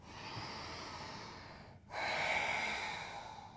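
A person takes slow, audible breaths during a yoga toning practice. A long exhale is followed by a steady inhale, close and soft, with no talking.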